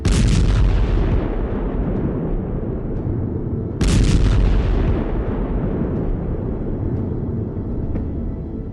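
Two heavy blasts from an IED planted in a Santro car in Pulwama, Kashmir, each a sudden loud burst that rolls into a long, dense rumble which slowly fades, with no voices.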